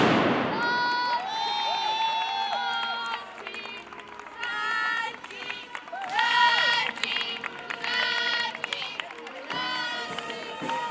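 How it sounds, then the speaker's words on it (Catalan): Gunpowder firecrackers, band music and applause greet a Fallas procession at the doors of a casal in Valencia; a sharp crack opens, then bright brass-like tones mix with crowd noise and clapping. "Pólvora, música i aplaudiments els reben a les portes del casal"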